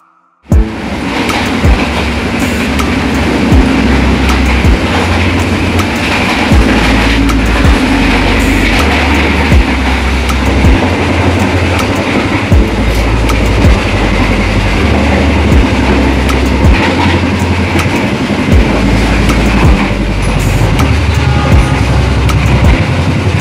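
Steady loud rumble of a Tegal Bahari passenger train heard from inside a carriage, with a rhythmic clickety-clack of wheels over rail joints running continuously throughout.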